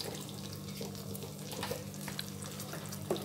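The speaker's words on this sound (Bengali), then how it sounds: "মশলাটা আমি দিয়ে দিয়েছি। এবার আমি নাড়ব।" Masala paste for paneer butter masala fries in a pan under a soft, steady sizzle, with a few light stirring scrapes and taps close by.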